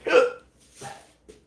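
Three hiccups in a row, the first loud and sharp, the next two weaker and spaced out, close to the mic.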